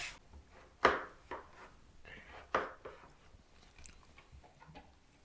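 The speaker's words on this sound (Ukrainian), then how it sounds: "Розрізаємо кабачок на двоє." A knife cuts through a zucchini on a board, giving two sharp crunching chops with a few softer cuts and handling noises between them, close and fairly quiet.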